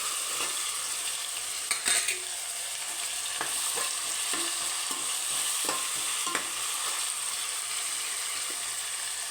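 Small shallots frying and being stirred in a pan for mushroom biryani, a steady close sizzle broken by scattered scraping clicks of the spoon, with no voices.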